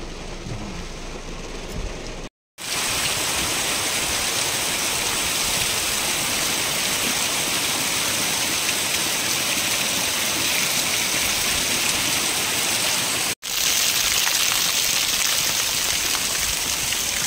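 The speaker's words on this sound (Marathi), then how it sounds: "थोडा पाऊस आहे." Steady monsoon rain falls across a Konkan village countryside at dawn, a dense continuous hiss that stays loud and even, broken only by two brief cuts to silence.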